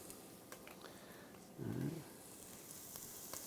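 Garlic sizzling in oil at the bottom of a pot, a quiet steady hiss that swells briefly louder for a moment mid-clip before settling back to a faint background sizzle.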